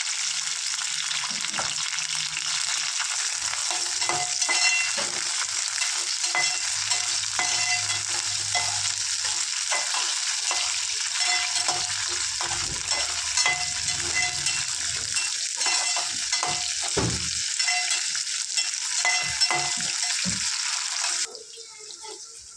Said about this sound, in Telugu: పచ్చిమిర్చిని ఇలా ఫ్రై చేసుకుంటే మంచి పచ్చడి అనేది బాగుంటుంది